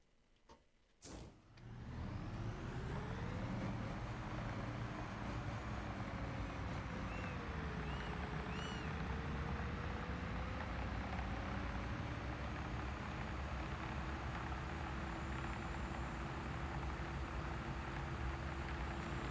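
A Kenworth truck in the video game Construction Simulator starts with a short burst of noise, then its engine drones loud and steady, the pitch climbing and then easing as it gathers speed, with no talking.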